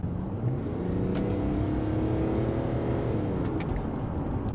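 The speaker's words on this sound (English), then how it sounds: "if I just accelerate now, you'll hear" A BMW 7 Series six-cylinder diesel engine drones and rises steadily as it accelerates, a smooth continuous hum with road noise, heard from inside the car.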